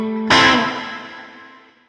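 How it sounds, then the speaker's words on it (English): An electric guitar chord is struck through a Line 6 HX One pedal set to reverb. It rings out loudly and decays smoothly into a long washy tail over almost two seconds, with no talk. "two totally different reverb sounds dialed in really, really quickly"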